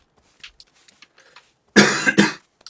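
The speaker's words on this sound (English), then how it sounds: "I'm coughing and sneezing quite a lot at the moment" A quiet stretch of faint shuffling, then two loud harsh coughs in quick succession, close to the listener.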